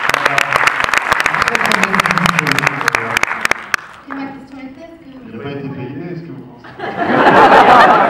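A film-debate audience claps in a brisk burst of sharp, close claps for about four seconds, then talk with some chuckling follows before a broader swell of clapping and crowd noise returns at the end.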